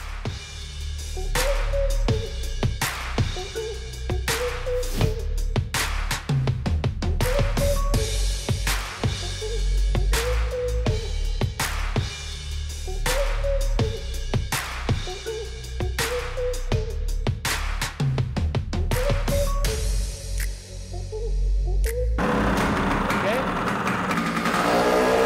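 A Vespa PX scooter engine runs after carburetor tuning, a steady, even two-stroke idle with a regular pulsing beat throughout, ending with a brief rush of noise.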